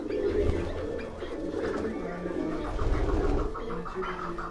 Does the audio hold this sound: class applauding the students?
no